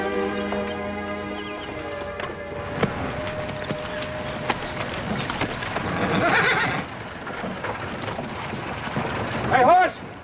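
A horse in the TV western Bonanza whinnies with a long, wavering call over outdoor noise and a brief stamp, then another sharp neigh near the end.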